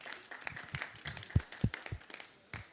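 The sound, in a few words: audience applause for the team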